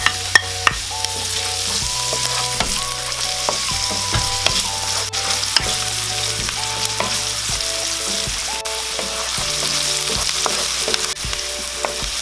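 Onions and garlic frying in a pan for a beef offal dish, a steady close sizzle throughout, with background music playing over it.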